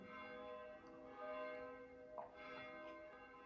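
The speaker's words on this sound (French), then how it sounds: "il y a l'église qui sonne" A church bell rings the Angelus in a French setting, faint and distant under a steady background hum, with a few soft strikes barely rising above the ambience and no voices.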